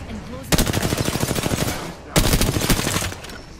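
Automatic gunfire in the video game Apex Legends: two loud, rapid bursts of close-range shots in a fast, even rattle, separated by a short pause.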